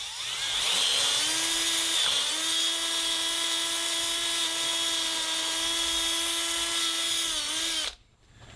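A drill with a 1/4 inch bit bores out a broken exhaust stud in a cylinder head, whining at a high, steady pitch that dips briefly and then holds for about seven seconds before stopping abruptly. No voices are heard.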